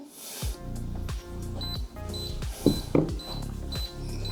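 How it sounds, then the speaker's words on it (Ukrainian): Countdown beeps from a U-PROX security system arming, sounding as a steady series of short electronic beeps with a few louder clicks partway through, close and alone. "Чуємо, що у нас відлік пішов постановки."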